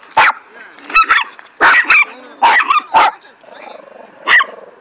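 A dog barks repeatedly nearby at a dog park, several short sharp barks in an uneven rhythm, with a faint whine between them.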